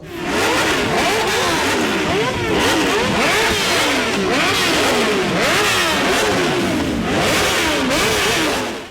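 Motorcycle engine revving hard and continuously on a Delhi to Mumbai road trip across India, loud and close, with repeated rising and falling pitch sweeps as the throttle opens and eases.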